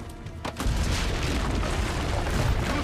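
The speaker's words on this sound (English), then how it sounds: "Use the cannons above the rampart." Heavy cannon fire on a town rampart in Assassin's Creed, a deep booming rumble that swells after a brief quieter start and holds as a dense, continuous roar.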